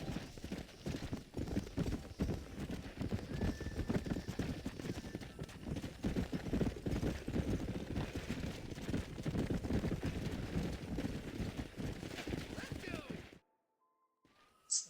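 Horse hooves clip-clop steadily in Red Dead Redemption while the rider walks a golden horse. The beat is continuous and close, with a voice speaking over it, before everything cuts to near silence at the end.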